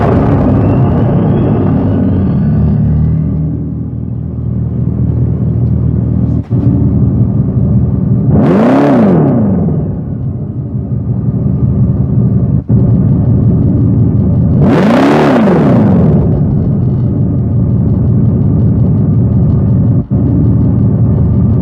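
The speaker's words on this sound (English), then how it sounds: "And then of course, a little gas, you'll get that exhaust sound too." A 2024 Dodge Charger EV's steady hum swells twice into rising-and-falling simulated exhaust revs, each a brief roaring surge over a constant drone.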